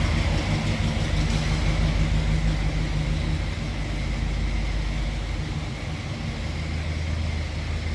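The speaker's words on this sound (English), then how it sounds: "Sorry about the noise in the background, just a Chevelle driving by." Steady engine rumble of a Chevrolet Chevelle passing in the background, a continuous low drone that swells slightly and eases off, with no talk over it.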